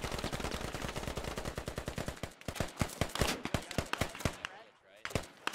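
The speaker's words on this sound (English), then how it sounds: "Shots coming in both ways." Rapid gunfire traded back and forth in the tactical shooter Squad, dense automatic bursts and single shots packed close together, loud and continuous with a brief lull near the end.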